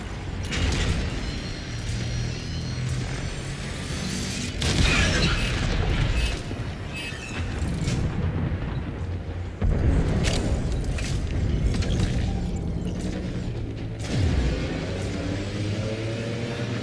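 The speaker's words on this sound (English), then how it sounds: "Arming torpedoes. Locking on to their signature." Railjack torpedoes launch and detonate in Warframe: heavy booming explosions with rumbling, mechanical whooshes and engine-like drones, recurring in several loud surges over a steady low background hum.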